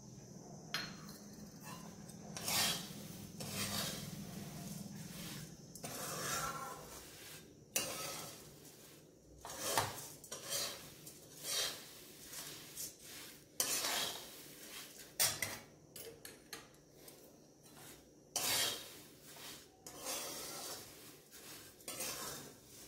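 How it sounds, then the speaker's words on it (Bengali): Puffed rice snack being tossed with peanuts and spices, irregular bursts of dry rustling and clinking of a utensil against a bowl, close and fairly quiet, with pauses between stirs and no speech. "এবার এই ঝুড়িগুলো মিশিয়ে দেবো"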